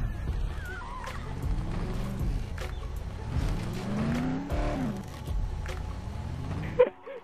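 Car engine in the video game Dead Island during a three-point turn, a low revving motor rising and falling as it shifts back and forth, with faint tire noise and a sharp knock at the end.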